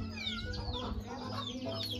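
Village chickens cluck steadily at close range, several birds overlapping in busy, continuous chatter with no talk.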